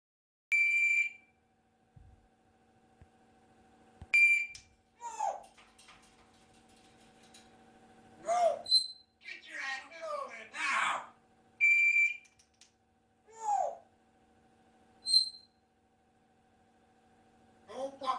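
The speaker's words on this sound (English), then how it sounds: "the actual recording Christina made of Bud the parrot singing like a canary." A parrot sings canary-like phrases: bright, high warbling trills and whistles in repeated bursts, close and fairly loud, with short gaps between them. A voice talks briefly between the phrases.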